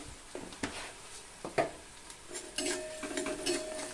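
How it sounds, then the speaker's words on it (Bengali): Onions with turmeric, salt and sugar stirred in a pan for a prawn dish, with soft sizzling, scraping spatula strokes and light clinks of cookware, quiet and close. "পেঁয়াজটাকে আবার একটু নেড়ে চেড়ে হালকা ভেজে নিব"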